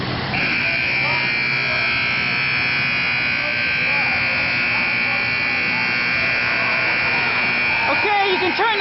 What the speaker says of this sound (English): We have a stuck buzzer at the castle.